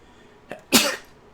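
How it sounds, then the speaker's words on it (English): A single quick sneeze, preceded by a short sharp intake of breath, sounds close and alone in an otherwise quiet moment and is over in under a second. "Had to sneeze."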